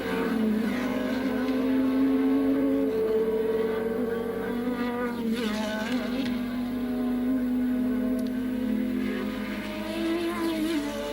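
1986 Formula One race cars circling the Österreichring, engines holding a loud, steady high-pitched drone with shifting harmonics as cars rise and fade past, continuous throughout.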